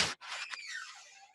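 A door squeaks as it is pushed shut indoors, giving a single drawn-out, high-pitched creak that slides downward and fades over about a second.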